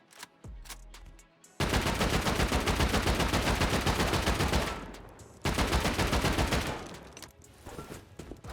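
Explosive ammunition fired in the game Rust: two long, loud bursts of rapid automatic gunfire, the first running about four seconds and the second about two, with sharp shots closing it out.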